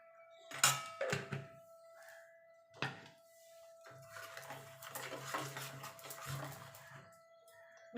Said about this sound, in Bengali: মিক্সির জারটা ধুয়ে জল দিয়ে দেবো।